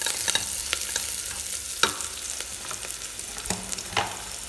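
Slit green chillies fry in hot oil with a soft, steady sizzle, broken by sharp scrapes and clicks of a spoon stirring the pan.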